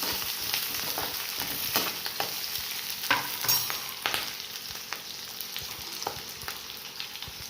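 Something frying in a cast-iron kadai for a ridge gourd and split-bean gojju, with steady sizzling under repeated scraping stirs of a spoon against the iron, close and fairly loud, no voices.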